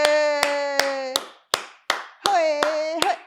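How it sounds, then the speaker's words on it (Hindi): Sharp hand claps ring out, about nine in all, spaced roughly every third to half second, close and crisp, interrupted by a voice that speaks between and over some of them. "मैं आपके लिए क्यों ताली बजा रहा हूँ?"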